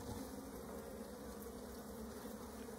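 Honey bees hum in a steady, dense drone around a hive while emergency queen cells are cut out, the buzz continuous and close with no voices.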